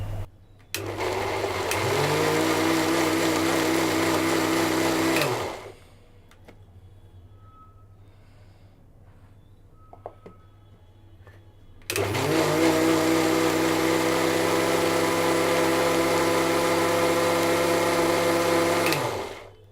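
A mixer grinder blends tomatoes, cooked onions, ginger, garlic and cashews into a paste, roaring loudly in two long bursts of about four and seven seconds, separated by a quiet pause with small clicks.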